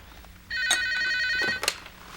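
A telephone rings in a 1989 Korean TV drama scene: a single electronic ringing tone holds for about a second over quiet room tone, with a couple of soft knocks and clicks around it.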